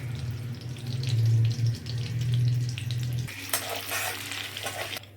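Two bay leaves frying in a generous amount of hot mustard oil, a loud close continuous sizzle with crackling bursts and a brief stirring clatter near the end, no talk.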